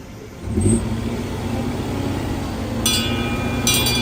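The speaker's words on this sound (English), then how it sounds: "Hey, there goes a train." A train passes at Disneyland, a loud, continuous engine-like rumble that swells and holds steady close by, with crowd ambience underneath.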